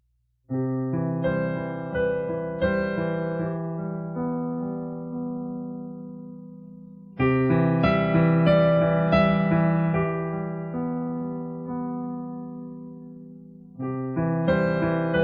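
Sustained piano chords ring out one after another, each held several seconds and slowly fading before the next chord strikes, no talking.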